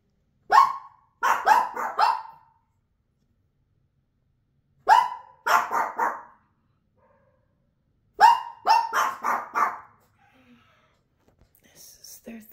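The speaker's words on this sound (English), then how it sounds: "He'll go woof woof and she goes woof woof woof." Pekingese dogs bark close by in short clustered bursts, a single yap followed by a quick run of two or three, repeated three times with quiet pauses between.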